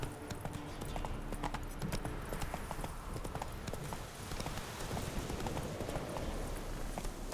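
A horse named Roach gallops in The Witcher 3: Wild Hunt, rapid continuous hoofbeats pounding up close under a dense game soundscape.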